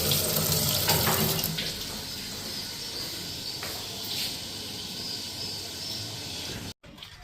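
Tap water runs steadily into a kitchen sink basin while dishes are washed, a continuous close splashing stream with faint clatter, cutting out abruptly near the end.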